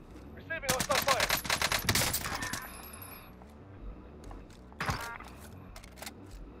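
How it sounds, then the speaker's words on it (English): Gunfire in the video game Call of Duty: Warzone: a loud burst of rapid automatic shots over the first few seconds, then a quieter single crack later, with in-game radio voice lines around it. "Receiving hostile fire."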